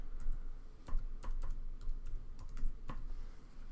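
Password typed on a computer keyboard, a steady run of light key clicks with a few harder strikes, close and fairly quiet over a faint room hum, no voices.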